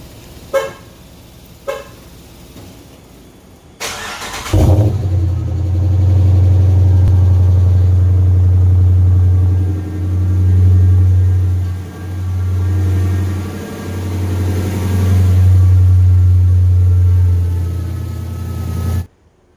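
Cold start of a Dodge Charger 5.7 Hemi fitted with a 6.4 cam and 6.4 intake manifold: a few clicks, then the engine catches with a loud burst and settles into a steady, lumpy high idle that swells and dips, close up.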